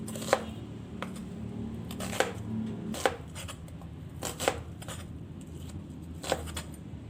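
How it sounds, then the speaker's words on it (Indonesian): Garlic being coarsely chopped with a knife on a board: quiet, irregular sharp chops, about seven distinct strikes spread out with pauses, over faint background hum and no speech. "sisanya yang 3/4 bagian ini akan saya cincang kasar"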